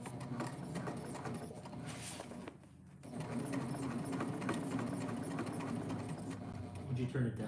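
A sewing machine stitches around a quilt overlay, its motor whirring in a rapid mechanical chatter with a brief pause midway before running again, with a voice speaking over it.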